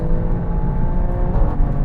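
A 2021 Alfa Romeo Stelvio Quadrifoglio with its 510-horsepower engine pulls hard down a quarter-mile run, producing a loud, close, sustained roar with a steady rising drone throughout and no talking.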